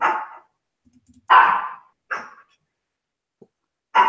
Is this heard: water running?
no